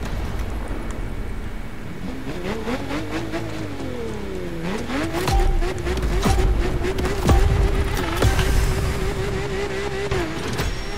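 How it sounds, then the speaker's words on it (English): A Lamborghini in The Crew Motorfest drifts, its engine climbing and falling in pitch through sustained revs, with tire squeal and gear-shift blips, loud and close throughout. "The next ride is going to be a Lamborghini that is often referred to as the best of the best."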